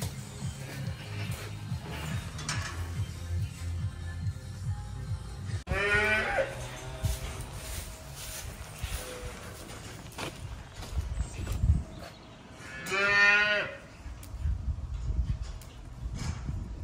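Calves low and moo a few times inside a tidied cattle shed, with two clear drawn-out calls standing out over a rustling, shuffling background of straw and farm activity.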